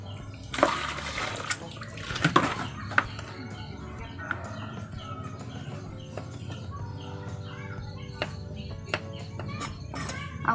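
Running water splashes in two short bursts while eggplants and leafy greens are rinsed, then settles to a faint trickle, with chickens clucking softly in the background.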